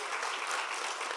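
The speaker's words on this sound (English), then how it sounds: "Y'all, clap it up" Brief burst of audience applause at a Cloud Native Rejekts Europe 2025 conference, a dense, steady wash of clapping from a crowd after a lightning talk, fairly faint and without pauses.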